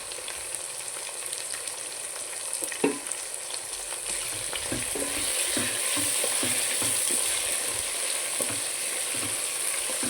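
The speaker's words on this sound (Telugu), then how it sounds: "కొంచెం మనము మెంతాకు వేసుకుందాం" Fenugreek leaves fry in a pan of white brinjal kurma, a steady hiss and crackle of sizzling oil close by, with repeated light scraping and stirring taps through the middle, no voices.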